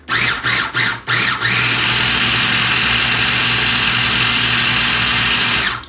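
A blender gives four short pulsing bursts, then runs loud and steady for several seconds before stopping abruptly, mixing a meal-prep mixture.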